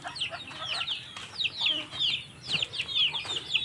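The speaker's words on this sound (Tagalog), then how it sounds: "Dami na tayo manok guys." Chickens on a farm cluck and chatter continuously at close range, several birds overlapping in busy, uneven bursts of short calls.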